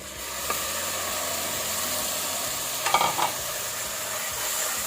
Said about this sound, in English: Be careful, the spices can burn, then it will give you a bitter taste. So quickly add in our tomatoes.